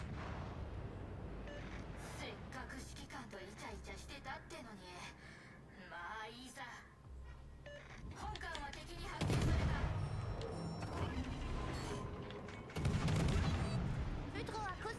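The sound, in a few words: naval gunfire in the video game World of Warships: Legends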